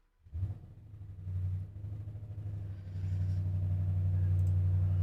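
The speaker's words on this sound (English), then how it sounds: "Oh my God, my neighbor's car is so loud." A neighbor's car engine rumbles loudly nearby, a low steady drone that swells and grows heavier toward the end, with no talking over it.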